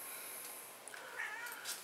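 A cat meows at a door to be let in, a few faint, drawn-out cries, the strongest one just past the middle, over a quiet indoor room hum.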